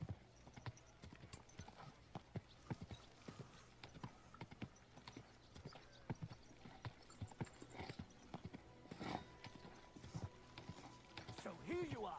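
Horse hooves clip-clop in a steady, even rhythm on a hard surface, fairly close, with a voice speaking briefly near the end.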